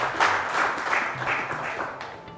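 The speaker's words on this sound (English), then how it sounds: "Let's give a huge round of applause to Shaq" Studio audience at a televised school quiz show applauding a contestant named Shaq, a burst of clapping with rhythmic pulses that carries on steadily, no voices over it.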